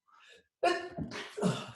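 A sudden sneeze bursts out loud and close, followed by a second sharp sneeze-like burst, with a faint breathy sound just before.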